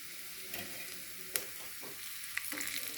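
Onions frying in a pan for a fish curry, a soft continuous sizzle with a few scraping strokes of stirring, faint and close, with no voices.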